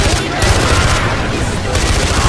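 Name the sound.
gunfire from a gun in a vehicle, video game Far Cry 4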